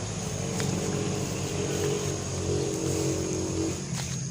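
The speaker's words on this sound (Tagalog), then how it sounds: "Maraming mga sasakyan dito dumadaan" Vehicles pass along a road in a continuous loud drone of engine and tyre noise, with several overlapping passes swelling and fading over a few seconds.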